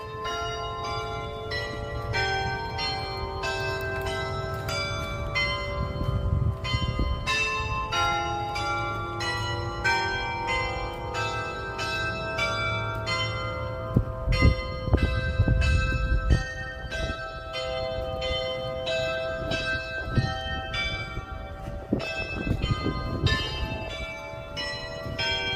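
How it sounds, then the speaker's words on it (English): Bells of First Presbyterian Church in Fayetteville, North Carolina, chime a continuous melodic tune outdoors, ringing loud and steady with overlapping tones and faint street noise beneath. "this church is putting on an audio show. Look at the chimes here."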